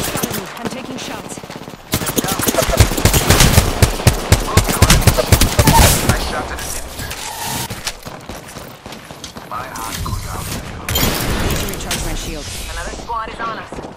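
Repeated automatic gunfire bursts in the Apex Legends video game, loud and dense for most of the stretch. A voice talks over the shooting.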